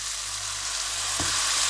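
Tomatoes and liver fry in a pan for a warm liver salad, a loud, dense, continuous sizzle with one brief thump of movement partway through, and no talking.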